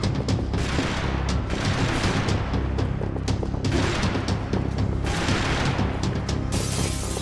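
Gunfire in the video game Max Payne 3, a continuous barrage of booming shots and rapid bursts layered over heavy low rumble, loud and dense for about seven seconds with no pauses.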